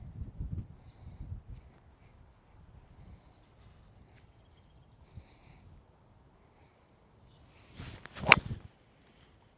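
Golf club striking a ball off the tee on a short uphill par 4 in strong wind, a single sharp, close whack near the end after quiet rustling and faint movement.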